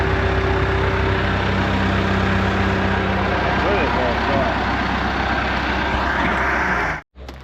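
A Deere 450G crawler dozer with a 4045 diesel engine and a Stanadyne DB4 injection pump is pushing into a gravel pile. Its engine drones loud and steady, with track and gravel clatter, then cuts off abruptly near the end.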